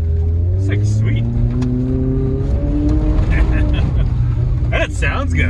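Steady engine drone of a Subaru all-wheel-drive car under load while driving, a continuous rumbling hum heard from inside the cabin, with people talking and laughing over it.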